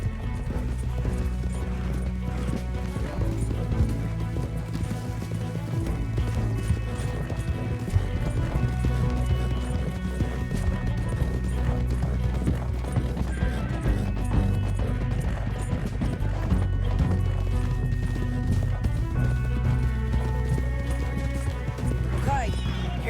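Horses gallop in Red Dead Redemption 2, with a steady clip-clop of hooves, occasional crashes and a brief whinny, all continuous under a dense game soundtrack and ambient effects.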